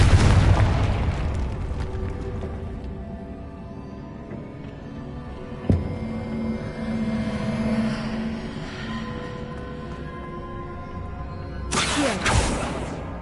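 A Confringo explosive spell blast in Hogwarts Legacy on PS5 opens with a booming burst that rumbles and fades. A sharp crack comes midway, and a second bright blast lands near the end over a low ambient bed.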